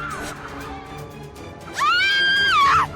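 A shrill, rising scream bursts out near the end of a short stretch of Re:ZERO The Prophecy of the Throne gameplay, loud and sustained over continuous background game sound.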